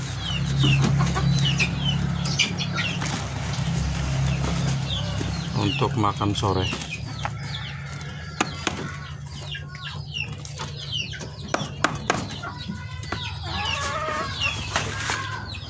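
Chicks cluck and peep continuously nearby, a busy flock chattering as they are fed, while a person speaks briefly over them.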